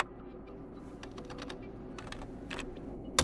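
Rapid typing on a computer keyboard while opening a command prompt to enter fastboot commands for a Nokia 8 phone, with scattered light key clicks over a steady low hum and one sharper burst of keystrokes at the end; no talking.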